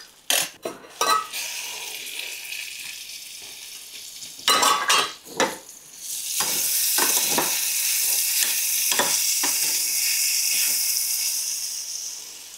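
Chopped amla (gooseberry) pieces fry in a hot pan, with metal stirring clatter and scraping in short bursts at first, then a steady, loud sizzle carries on under repeated stirring knocks. No one speaks.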